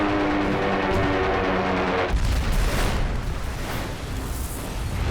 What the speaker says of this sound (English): The largest explosion in the ship's storied history shakes her from bow to stern.